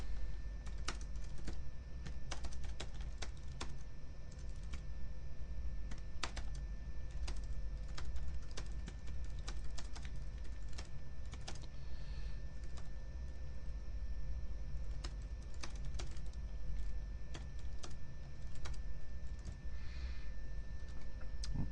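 Steady typing on a computer keyboard while a short paragraph is written, a continuous run of quick, close key clicks with no talk.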